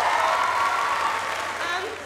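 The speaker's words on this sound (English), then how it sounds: "So she deserves a huge round of applause." Steady clapping from a youth theatre audience at a Les Misérables performance fills the clip, a dense continuous round of applause fading slightly toward the end.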